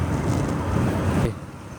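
Strong wind buffets the microphone while riding a motorbike at high speed on a highway journey, a loud rumbling roar that cuts off abruptly near the end, with no speech.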